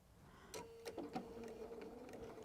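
A sewing machine taking a couple of quick stitches through quilting fabric, a short burst of mechanical whirring and needle clatter, close and quiet, with no talk.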